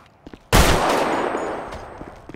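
Gunfire in a video game: one loud, close shot or burst bursts in suddenly and rings off into a long fading tail, with a few faint clicks before and after.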